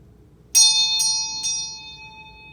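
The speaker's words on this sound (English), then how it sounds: "here comes the bell ringing." A ringing bell opens a congregation service, struck three times in quick succession, each clear metallic tone hanging and slowly fading in a quiet room.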